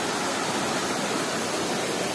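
Waterfall at Sítio Tabocas in Altinho, a steady, even roar of falling water with no breaks, filling the background at moderate loudness.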